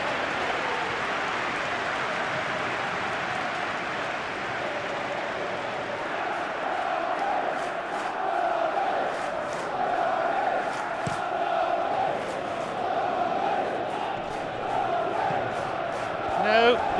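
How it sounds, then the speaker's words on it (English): A football stadium crowd in the FC 26 video game, during an EFL Championship match between Bristol City and Stoke City, roars and cheers in a sustained wash of noise, swelling slightly toward the end, with a commentator's voice over it. "Well, at least the crowd are appreciative of his efforts."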